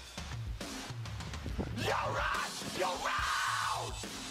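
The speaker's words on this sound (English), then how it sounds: "this scream is fucking crazy." A scream on a played recording, a loud drawn-out yell that rises and falls in pitch over a couple of seconds against background noise, with some voices mixed in.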